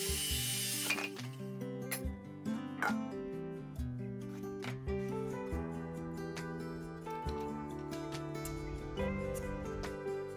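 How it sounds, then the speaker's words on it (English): A hozokiri tenon-cutting machine cuts the ends of 105mm hinoki cypress posts, a steady loud mechanical whine with repeated sharp cutting bursts and clunks in an irregular rhythm, close and continuous. "Now, I'll start cutting the columns, all at once."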